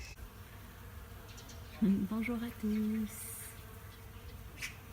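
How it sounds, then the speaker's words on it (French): Bees foraging on kiwi flowers make a faint buzzing drone beneath a brief spoken greeting, the hum coming and going in the open air. "Regardez-moi ça, les abeilles. Elles sont en train de butiner des fleurs de kiwi."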